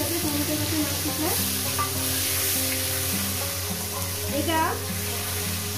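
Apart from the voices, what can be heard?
tomatoes frying with turmeric in a pan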